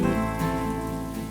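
Steady rain falls in the monsoon season, a continuous patter on surfaces with a faint tonal background hum running underneath throughout.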